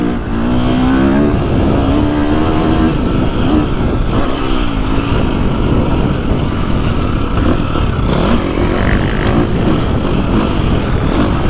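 A 2025 KTM 350 off-road motorcycle on an aggressive engine map, revving hard while riding, loud and close with the engine note rising and falling continuously throughout.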